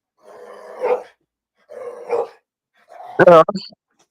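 A large dog gives three short vocal bursts, low grumbling growls followed by a sharper yelping bark at the end, close and fairly loud with quiet gaps between.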